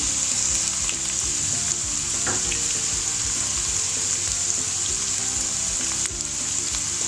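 Chopped onions sautéing in a pan with white and black pepper just added, a steady close hiss of frying running unbroken throughout with faint clinks of stirring.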